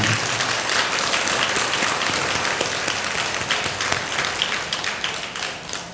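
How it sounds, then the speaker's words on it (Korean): Sustained, dense applause from a large congregation at a Buddhist dharma assembly at Bulgwangsa temple fills the space, a steady wash of clapping that tapers slightly toward the end. "큰 박수 한번 보내주시기 바랍니다"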